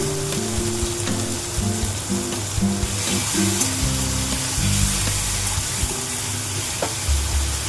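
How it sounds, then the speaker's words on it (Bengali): Tomatoes with ginger paste and chilli paste fry in a pan, giving a continuous, fairly loud sizzle and crackle. A low steady hum runs underneath, and no one talks. "এবার আমি এর মধ্যে আদা বাটা লঙ্কা বাটা দিলাম"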